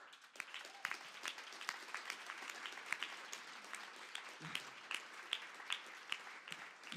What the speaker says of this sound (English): So a warm round of applause to Dr. Tlaling Mofokeng from South Africa.